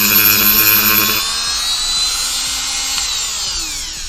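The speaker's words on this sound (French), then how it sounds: "On peut facilement découper avec une scie circulaire." Circular saw cutting through a small piece of wood, a loud high whine that drops in pitch as the blade bites and then spins down, close and alone with no talk.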